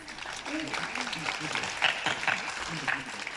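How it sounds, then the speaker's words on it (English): A seated audience at the London East Asian Film Festival opening gala claps steadily while a presenter's amplified voice continues over the applause. "Let's give our applause"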